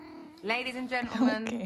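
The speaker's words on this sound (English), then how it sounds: "that's my cat at my door asking to get back in" A pet cat at a door meowing to be let back in, a couple of short, fairly close cries heard beneath a person talking.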